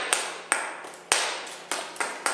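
Sharp, bright clicks and pings of a hammer striking obsidian flint while knapping toward a sharp edge, about seven separate strikes at irregular intervals, close and distinct, each ringing briefly against a quiet background.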